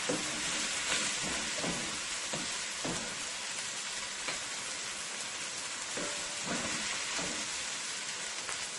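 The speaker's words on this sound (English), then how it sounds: "Let this fry nicely into the oil." Seasoning frying in hot oil for corned beef, a steady dense sizzle with scattered pops and crackles, continuous and close, with no voices.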